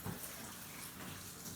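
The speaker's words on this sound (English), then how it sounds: "you're going to want to squeeze the bubble a couple of times to get the water flow started" Water rushing through an aquarium gravel vacuum siphon, a steady, faint gushing flow, brief and continuous with no voices.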